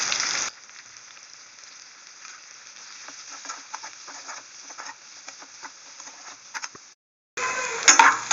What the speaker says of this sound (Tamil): முதல்ல வெங்காயத்தை போடுங்க.